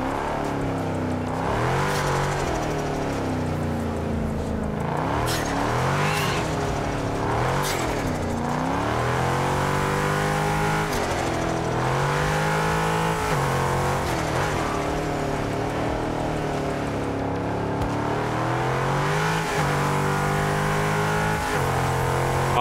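A Ford Mustang V8 in the racing game Drive Unlimited revs and accelerates continuously, its engine note rising and falling through gear changes with occasional tire squeal, loud and steady throughout.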